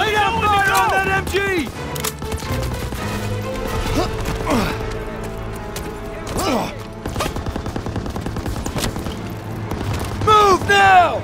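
Gunfire at a machine gun nest in Call of Duty: Vanguard, loud bursts and booms of battle rattling throughout, with shouted voices over the combat.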